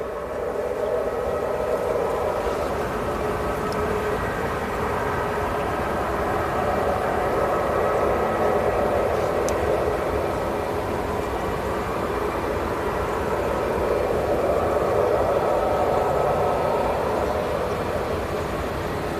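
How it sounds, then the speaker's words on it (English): A Boeing 737 Max airliner taxiing at Manchester Airport gives off a steady, continuous jet engine rumble and whine, moderately distant, holding even and unbroken throughout with no talk. "we've got the Max that's now taxiing towards us"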